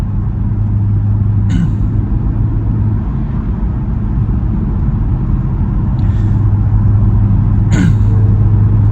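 A BMW E91 335i N54 Touring cruising at steady speed gives a low, steady engine and exhaust drone, fairly loud and continuous, with a few brief higher ticks and whooshes passing over it.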